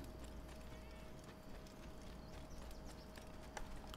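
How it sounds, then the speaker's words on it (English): Horse hooves in the game Assassin's Creed: faint, scattered clip-clop footfalls over a low steady background hum, quiet and somewhat distant. "Oh, there's a horse down there."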